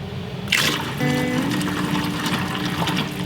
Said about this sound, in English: we need to add more water